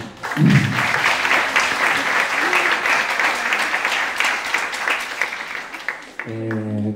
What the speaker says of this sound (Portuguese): primeiro eu quero pedir palmas para a Val.